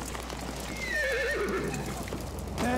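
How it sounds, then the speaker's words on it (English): A horse neighs with a wavering whinny in Battlefield 1, Sinai Desert map, then gives a short second call near the end, over a steady game background hum. "Oh, I see the horse."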